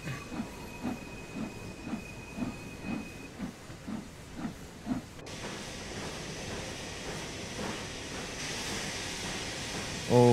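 A heavy freight train of about 1000 tonnes on the Peak Forest Railway in Train Sim World 3 rolls along with rhythmic clickety-clack and steady hiss, growing slightly louder near the end.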